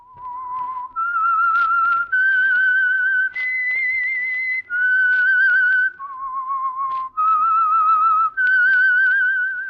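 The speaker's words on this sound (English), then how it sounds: "That whistle is your signal for the Signal Oil Program, The Whistler." A clear, melodic whistled tune, the Whistler radio theme, phrased in a series of sustained notes with brief pauses between them, alone and close.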